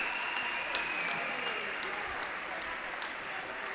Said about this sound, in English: You hear the crowd cheering.